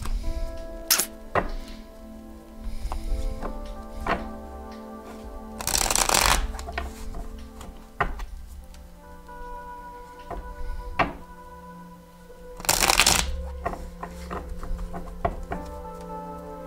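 Tarot cards are shuffled and dealt out on a table, with two long riffling bursts and many soft slaps and taps as cards are laid down one by one, close and clear.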